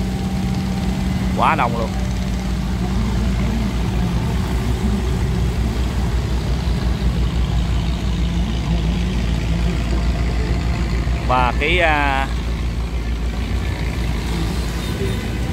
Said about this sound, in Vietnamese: Tàu tham quan du lịch thì chạy hầu như đông lắm các bạn nha.